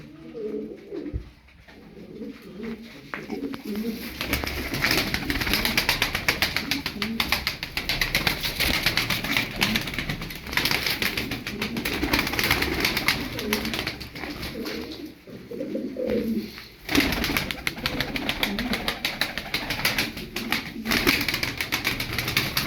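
A flock of tumbler pigeons coos steadily at close range, with occasional wing flaps and faint human voices mixed in throughout.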